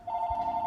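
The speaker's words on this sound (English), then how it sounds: "sorry, that's just my phone." A mobile phone rings with a steady, sustained electronic tone that stays close and fairly loud throughout, with no talking over it.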